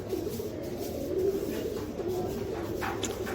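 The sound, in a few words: Royal Teddy pigeons cooing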